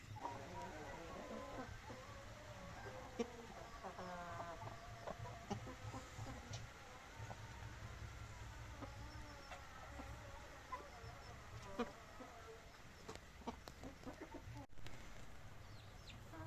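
Chickens clucking inside a closed coop at dusk, a faint, steady chorus of murmuring clucks and occasional sharper calls from several birds throughout, with brief rustling.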